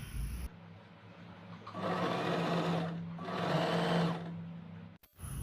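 Sewing machine stitching fabric for palazzo pants in two bursts of fast, even whirring, close and clear, separated by a short pause and ending with a click.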